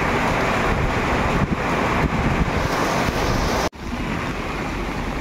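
Loud roar of Typhoon Carina's wind and heavy rain buffeting the microphone in Tebteb, Balili, Philippines, a dense rushing noise with a sudden brief dropout near the end.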